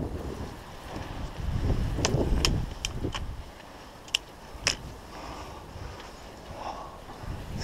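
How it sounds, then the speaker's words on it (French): Wind buffets a microphone outdoors at an air rifle shooting spot, producing a low, rumbling roar that swells in the first half. A few sharp clicks and taps cut through it. "Alors, il y a du vent."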